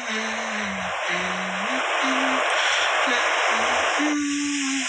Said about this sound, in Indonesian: Nah, ini suara hujan.